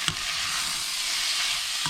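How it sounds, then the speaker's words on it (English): Beef sears in a hot pan over high heat, a steady close broadband sizzle that holds the whole time, with a couple of brief clinks or stirs near the start and end and no talk. "I'm going to cook these under a hot pan while basically on hot heat"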